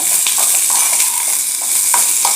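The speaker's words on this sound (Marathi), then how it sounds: "कांदा भाजताना याच्यात थोडं तेल घालायचं आणि भाजून घ्यायचा" Onion fries in oil in a pan for a Kolhapuri mutton dish, a loud close sizzle with scraping stirring strokes throughout.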